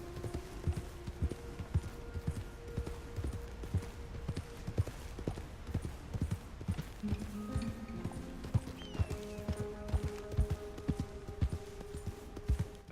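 Horse hooves clip-clop steadily in the video game Red Dead Redemption II, an even walking rhythm of distinct hoofbeats with a brief whinny and faint tonal game sounds underneath.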